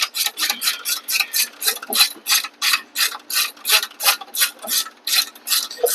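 Rapid, steady ratchet clicks from a hand ratchet loosening the brake calipers on a 1979 Chevrolet G-20 van, heard close and alone in a regular burst of ticking strokes.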